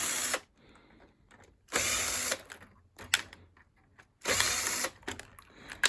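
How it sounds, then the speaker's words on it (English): A cordless power drill removes screws from a Triton T80xr electric shower during a teardown, sounding in three loud bursts of whirring and ratcheting, separated by quieter handling noises and clicks. "Now I'll take out as many screws as I can see."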